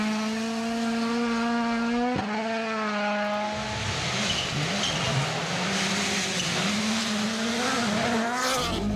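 A WRC rally car engine at Rally Finland screams at high revs, dropping sharply on a gear change and then roaring and fluctuating with tire noise as the car passes, loud and close with no talking.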